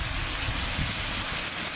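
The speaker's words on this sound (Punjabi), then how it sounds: "ਹਾਂਜੀ ਬਹੁਤ ਜ਼ਿਆਦਾ ਬਾਰਿਸ਼ ਹੁੰਦੀ ਹੈ।" Stormy rain pours steadily over a village in a dense, even hiss at moderate volume, with no talking.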